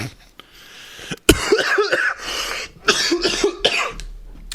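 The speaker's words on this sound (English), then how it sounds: "Hoping everyone liked me coughing directly in their ears" Several harsh coughs burst out close to the listener, some in quick clusters, with short gasping breaths between them.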